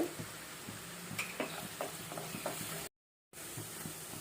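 Onions with turmeric and salt fry in a pan, giving a quiet, steady sizzle marked by light spatula taps and scrapes, then a brief dropout of silence before the frying resumes.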